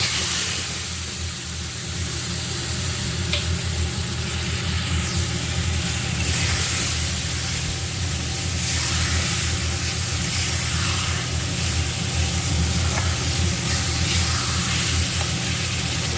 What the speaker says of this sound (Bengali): এইবার দেখো যে কলার খোসাটা আমার বেটে রাখা ছিল আমি কিন্তু সেটা এর মধ্যে ঢেলে দেবো